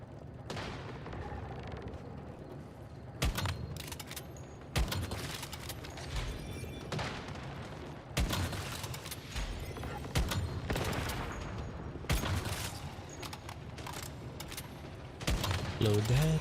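Gunfire in the shooter game Once Human crackles in repeated bursts of rapid shots, loud sharp volleys separated by brief pauses, with voices talking faintly underneath.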